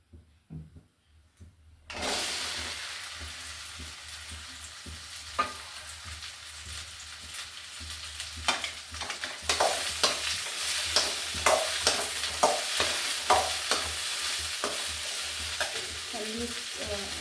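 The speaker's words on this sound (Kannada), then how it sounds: "ಒಂಚೂರು ಎಣ್ಣೆ ಹಾಕೊಂಡು ಫ್ರೈ ಮಾಡ್ಕೊಳ್ಳೋಣ" Okra (bendekayi) fries in oil in a pan. After a quiet start, a loud, continuous sizzle rises, with repeated spatula strokes and scrapes growing busier toward the end.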